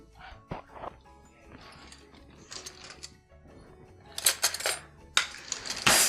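Spoon taken from a kitchen cutlery drawer: a few soft rustles, then bright metallic clinks and rattles of silverware that get louder toward the end, close by.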